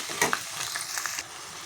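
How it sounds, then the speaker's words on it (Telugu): Finely chopped onions drop into hot oil for an egg curry, bursting into a lively close sizzle with a few sharp crackles and stirring scrapes before it settles into a steady fry. "ఇప్పుడు మనం సన్నగా తరుక్కున్న ఉల్లిపాయల ముక్కలు వేసుకుందాము."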